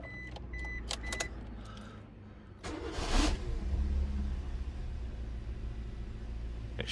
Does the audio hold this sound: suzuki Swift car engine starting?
yes